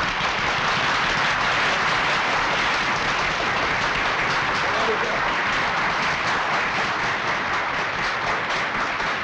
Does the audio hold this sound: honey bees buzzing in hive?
no